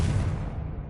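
A Confringo explosive spell cast in the wizarding game Hogwarts Legacy, heard as a deep, rumbling burst that holds steady for about a second before thinning at the end.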